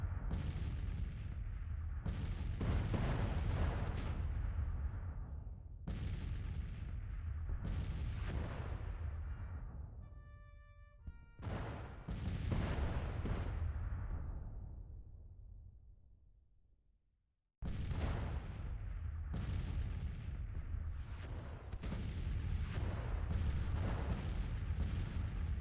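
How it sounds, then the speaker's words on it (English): Counter-battery artillery in Grand Tactician: The Civil War, set in spring 1861, booms again and again in long rolling volleys, each loud blast decaying slowly, broken by a brief quiet gap and a short lull before the barrage resumes. "Our counter battery fire is doing work."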